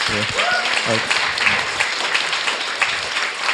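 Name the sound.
audience applause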